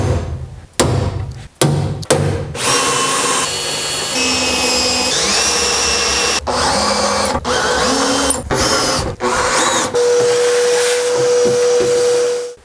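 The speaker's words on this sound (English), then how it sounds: "I'm just gonna drill it in situ" A power drill whirs in several bursts while drilling a racecar seat mount in place, revving up and down with short pauses between runs, loud and close.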